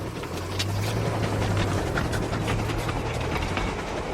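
A train rumbles past overhead, giving a continuous heavy roar with rhythmic clickety-clack of wheels on rail joints, close and loud throughout with no talk.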